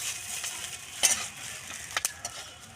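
Bay leaves and whole spices, dried chilli, cinnamon, cardamom and cloves, dropped into hot oil while cooking a pangas fish dish: a steady close sizzle with a few sharp clinks and crackles around the midpoint and near the end.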